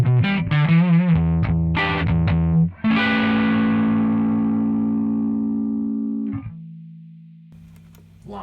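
Baseline mono electric guitar through a Rockman Stereo Chorus unit with the chorus off: a few quick distorted chord stabs, then one long sustained chord ringing out, a clipped final note, and silence with no talking.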